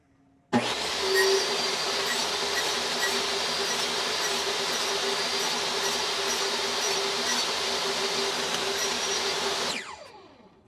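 A saw blade cuts an entrance reducer in one steady pass, a loud continuous whine-and-roar that starts abruptly, holds for about nine seconds, then winds down as the blade slows.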